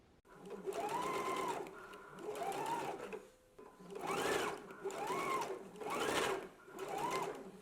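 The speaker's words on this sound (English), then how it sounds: "Let's go ahead and stitch them in place now." A sewing machine stitches gathered sleeve fabric in steady, close runs of whirring, each rising and falling, with brief pauses between bursts.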